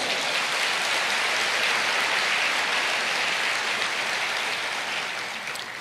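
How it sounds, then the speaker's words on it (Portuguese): A church congregation applauds, a dense, sustained wash of clapping that sounds almost like heavy rain, steady throughout and tapering slightly toward the end. "Você pode aplaudir o Senhor?"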